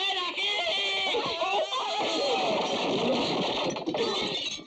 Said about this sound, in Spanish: Fíjese cómo grita la pobre mujer.